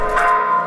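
Church bells in Cholula, Mexico, turned by hand during a service, ring out as a sustained metallic tone fading slightly over a brief moment, fairly loud, with no voices heard.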